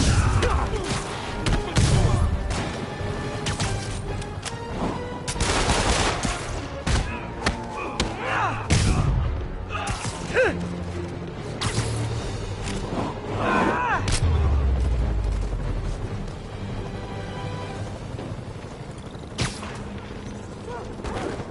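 Gunfire and heavy impacts in the Spider-Man video game: repeated thumping shots and bursts scattered through a loud action scene, with character voices talking between them.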